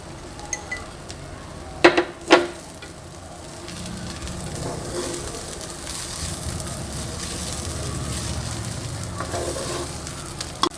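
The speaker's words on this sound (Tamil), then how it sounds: "இப்போ அரிசியை வதக்கி அரிசி கலர் மாறிடுச்சு." Rice sautés in a pan for coconut rice pulav, making a continuous close sizzle with stirring; a couple of sharp utensil knocks against the pan come early, with no talking.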